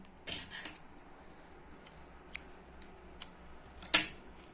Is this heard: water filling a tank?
no